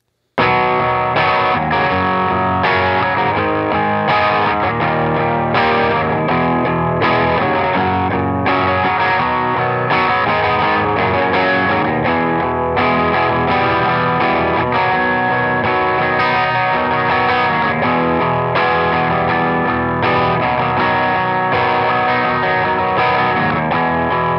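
An electric guitar on its bridge pickup through a Klon KTR overdrive pedal strums steady rhythm chords, thick and crunchy, playing continuously and loud with no voices.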